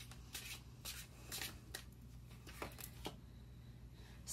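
Tarot cards shuffled and drawn by hand, soft close riffling and flicking taps in a quiet room, several short bursts spread across a few seconds.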